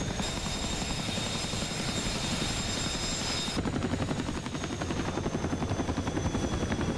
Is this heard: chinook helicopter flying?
yes